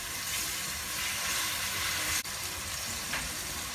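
Spices (turmeric, red chilli, salt and crushed chillies) fry with tomato and onion in a pan, giving a steady, close sizzling hiss with one brief click partway through.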